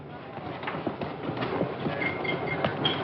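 A moving train rolls steadily on its rails in a classic 1973 horror film, a continuous rumble with faint rhythmic clacks and occasional high squeals throughout.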